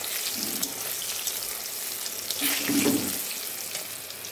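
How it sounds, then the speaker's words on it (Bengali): Eggplant slices frying in oil, a steady soft sizzle and crackle heard close by. Partway through there is a brief louder burst of stirring or splashing, then it settles back to the even hiss. "বেগুনগুলো দেখো হালকা হালকা ভাজা হয়ে গেছে।"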